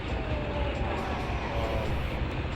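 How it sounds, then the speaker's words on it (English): In-game train rumble from the PS1 game One during an on-rails auto-scrolling stretch, a steady loud continuous roar and rattle with no break. "Basically, we're just on a train."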